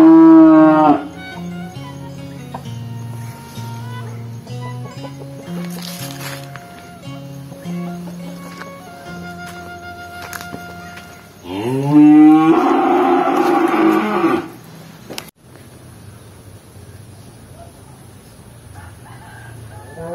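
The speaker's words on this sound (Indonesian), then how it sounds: "Ada sapi yang sedang mau-moan" Cows moo in a rural setting with a rooster crowing nearby, one long loud moo rising over music in the background before things quiet down.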